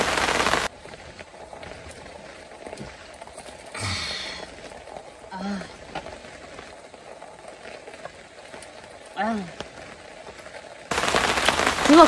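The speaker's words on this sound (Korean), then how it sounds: "비가 계속 와요, 계속." Steady patter of rain falling on a Naturehike Village 5.0 tent during a wet-weather camping trip, continuous and soft throughout, with brief spoken remarks and a few handling noises over it.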